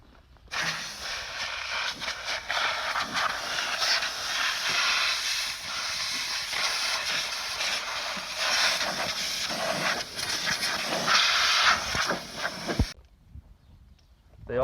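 Compressed air blasting dust off a John Deere F725 mower deck during preseason servicing, a loud close hiss that surges and wavers for about twelve seconds, then cuts off sharply.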